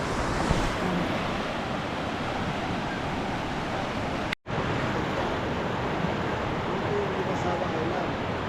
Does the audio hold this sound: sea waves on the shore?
yes